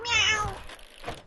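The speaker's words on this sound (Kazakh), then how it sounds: "Мысық." A cartoon cat gives a single drawn-out meow, clear and close, trailing off into a softer tail.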